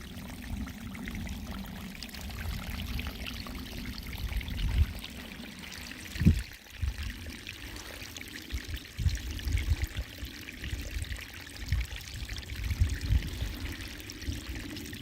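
Water runs down a hillside stream on a trek near Paddington Bench, Penrith, a continuous close pouring and trickling rush with low gurgles and occasional splashes, steady throughout.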